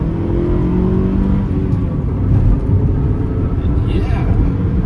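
A 2009 Toyota Corolla XRS with a five-speed manual accelerates up a highway on-ramp, its engine roar and road noise loud and continuous from inside the cabin, rising slightly partway through.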